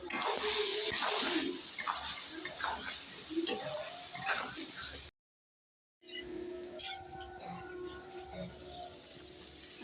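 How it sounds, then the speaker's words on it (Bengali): Hot water is poured into a cooking pot holding spiced taro for a fish curry, a steady splashing hiss that runs for about five seconds, cuts out briefly, then resumes more softly with light clinks and a voice in the kitchen. "এবার আমি জল ঢেলে দিলাম।"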